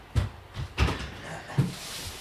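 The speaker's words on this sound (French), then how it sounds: "est en train de fermer les fenêtres." Windows are shut indoors, giving three dull knocks spaced evenly under faint background noise, each a short muffled thud.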